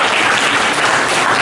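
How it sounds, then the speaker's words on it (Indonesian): Loud, close applause from an audience at a book discussion on the history of pesantren in Indonesia, a brief dense burst of many hands clapping with no talk. "Tepuk tangan untuk Mas Agus."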